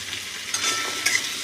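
Chopped onion, tomato and potato fry together in a pan over tempered spices, giving a steady close sizzle with a couple of louder scraping bursts as the mixture is stirred.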